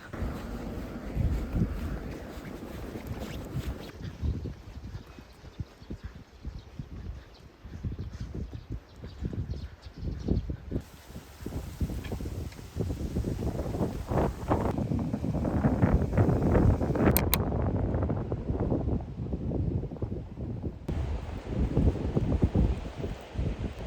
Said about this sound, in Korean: 바람이 엄청나요.